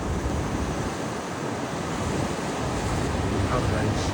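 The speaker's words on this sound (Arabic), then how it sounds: "البحر هايج اليوم" Heavy, agitated sea waves breaking on the Rabat shore on a windy day, a steady loud roar of surf with wind rumble across the microphone, swelling slightly toward the end.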